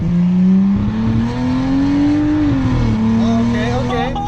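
A 2007 Lincoln MKX with a custom straight pipe exhaust idles and then revs up loudly before settling back down, a steady rumbling drone close to the listener.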